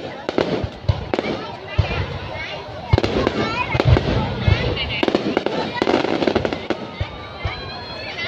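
A large fireworks display over Hà Tiên, Vietnam, celebrating its new city status: loud repeated bangs and crackling bursts at an irregular rhythm, with a crowd and voices talking throughout.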